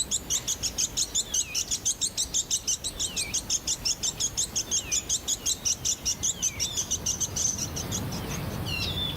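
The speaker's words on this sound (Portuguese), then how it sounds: "Um deles começa a piar alto." A Bonin white-eye on the Ogasawara Islands chirps loudly to mark its territory, a rapid steady series of high, sharp call notes repeated continuously, close and clear over faint insect background.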